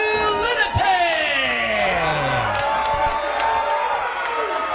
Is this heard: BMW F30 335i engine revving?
no